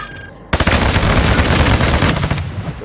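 Sustained burst of video game gunfire, sniper rifle shots amid rapid firing, starting abruptly after a quiet moment and continuing loud and dense for over two seconds before easing slightly at the end.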